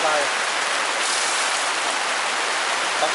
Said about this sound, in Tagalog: Umuulan na. May bagyo mga lods.